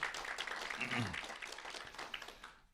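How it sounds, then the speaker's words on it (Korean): A church congregation claps briefly to welcome a member during a Sunday Korean service, a fairly faint, scattered patter of hands that thins out and fades within a few seconds. "우리 박수로 환영하시겠습니다"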